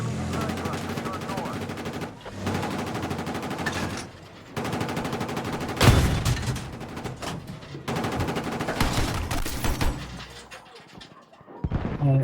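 Gunfire in a video game aimed at a roof: repeated bursts of rapid automatic shots in long volleys separated by brief pauses, loud and close, with a sharp bang midway and game noise throughout.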